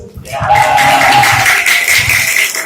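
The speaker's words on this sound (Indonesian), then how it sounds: "Tepuk tangan untuk Cabagus" A classroom of students claps for a classmate during a reading-literacy lesson, a dense, steady patter of hands lasting a few seconds with a voice and sustained tone running underneath.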